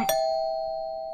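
A doorbell in the horror game Fears to Fathom, Episode One: Home, gives a single bright ding that rings out and sustains steadily, alone and fairly close.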